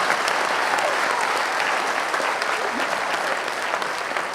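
An audience at a comedy storytelling show breaks into sustained, even applause, a dense wash of clapping with no talk over it.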